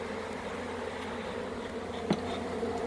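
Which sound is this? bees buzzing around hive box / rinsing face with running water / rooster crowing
bees buzzing around hive box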